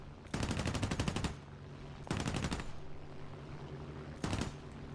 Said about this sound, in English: I'm just going to use the 50 cals here because I don't want to waste my 20s.